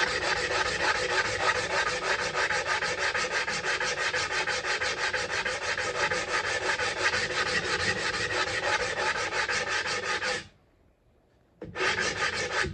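Sandpaper rubbing steadily around the rim of a wooden bowl, a continuous rapid back-and-forth rasping at close range that runs for about ten seconds, stops briefly, then resumes.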